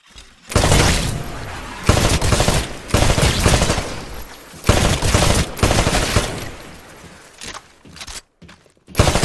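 In the Titanfall beta, weapons fire at shooting range targets in loud, close, rapid bursts, with short gaps between volleys.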